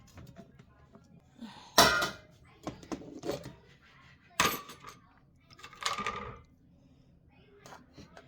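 Metallic clinks and rattles of a tin spice box being handled and its lid pried open in a kitchen, a few sharp bursts separated by quiet pauses.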